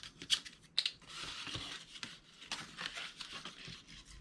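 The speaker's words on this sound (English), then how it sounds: "we are going to take these two flaps and we are going to trim them to about 1/2 inch" Scissors snip through the flaps of a cardboard gift box, trimming them down with several crisp, close cuts and a soft rubbing of paper between them.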